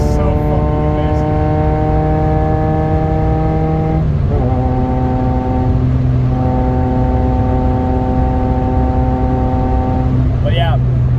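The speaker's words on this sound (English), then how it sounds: "It just sounds like a rally car." Small car with about 90 horsepower and a rally-car engine note, heard from inside, holding a loud, steady buzzing drone through gear changes, with pitch dropping at each shift and climbing again as it pulls.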